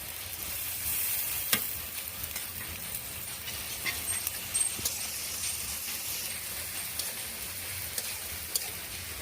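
Chopped onion and green chili paste frying in hot oil for a Bengali tilapia and potato curry, giving a steady, close sizzle with a few sharp spits and clinks throughout, no voices.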